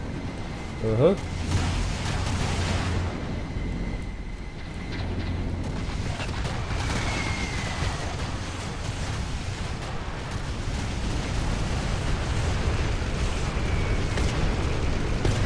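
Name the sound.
napalm bombardment and EMP bomb explosions in Rise of the Reds video game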